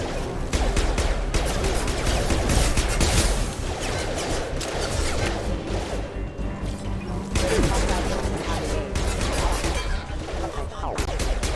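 Dense, continuous gunfire in a Mass Effect 2 firefight against security mechs, loud bursts of automatic weapons and impacts layered with game effects and a voice or two over the din.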